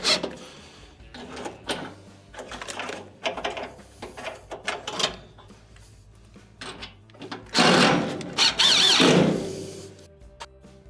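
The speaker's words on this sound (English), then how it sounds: "Switch back to your Phillips, slide in your mounting screws." A Phillips screwdriver drives mounting screws into a GE dryer motor assembly, producing scattered close clicks and scrapes, then two longer, louder grinding bursts of turning near the end.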